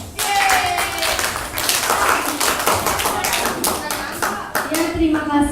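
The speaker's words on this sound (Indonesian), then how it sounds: "Beri aplaus." Classroom audience applauding after a student presentation on mosses: a burst of hand claps lasting several seconds, fairly close, with voices mixed in.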